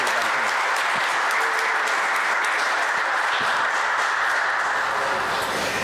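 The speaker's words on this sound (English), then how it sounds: "let's give them a round of applause" An audience at a village board meeting breaks into steady, dense applause, with many hands clapping close by for the whole stretch and no pause.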